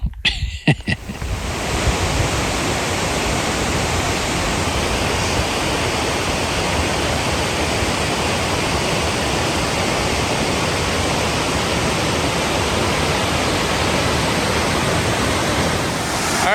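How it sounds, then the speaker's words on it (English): Fast-running stream water at a trail crossing on a mountain hiking route, a steady, loud, broadband rush that starts after a brief handling noise and continues unbroken up close, with no voices. "This water's running pretty good."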